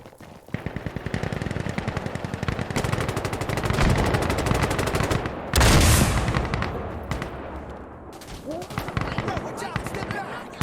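Rapid automatic gunfire in an Insurgency Sandstorm PVP match, long dense bursts of shots with a loud blast near the middle, close and continuous, with voices shouting over the shooting.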